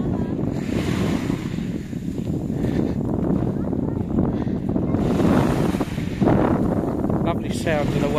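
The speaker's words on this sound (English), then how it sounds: "Lovely sound of the waves." Ocean surf breaks and washes on the beach at Caleta de Fuste, Fuerteventura, a steady roar with wind buffeting the microphone and a faint voice in the background.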